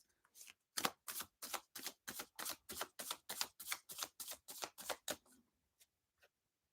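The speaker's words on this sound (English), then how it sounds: "I'm going to take another tarot card for it." Tarot cards being riffled and shuffled in a quick, even run of about fifteen close, crisp flutters lasting several seconds, followed by a couple of faint taps and then quiet, with no speech.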